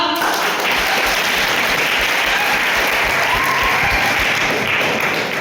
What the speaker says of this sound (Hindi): सबसे पहला क्वेश्चन आज का, और शुरुआत करेंगे आप लोग जोरदार ताली के साथ।